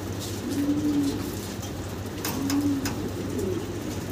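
Birmingham Roller pigeons coo softly in a few low, drawn-out calls over a steady background hum, with faint chirps nearby.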